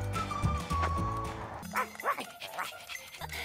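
Dogs bark at a dog training ground, several clipped woofs near the start followed by quieter yips and whines, with a steady background hum.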